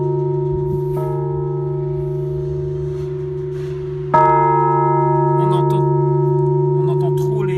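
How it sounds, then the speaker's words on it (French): A set of poorly tuned swinging church bells rings out loud and sustained, with a fresh strike partway through that layers on more ringing tones, all against a constant resonant hum. "les 5 cloches de volée, elles sont pas super bien accordées"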